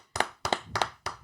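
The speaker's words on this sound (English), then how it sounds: "A little applause" Four sharp, evenly spaced claps from people in a studio, a brief little round of applause standing alone and fairly close.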